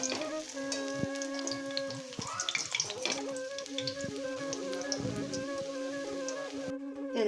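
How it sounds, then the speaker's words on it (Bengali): Cauliflower florets frying in hot oil for a chilli cauliflower dish, a steady close crackling sizzle with occasional stirring clinks and a faint hum underneath, no talking. "আবারও একইভাবে সমস্ত কপির টুকরোগুলো ভেজে নেব আমরা"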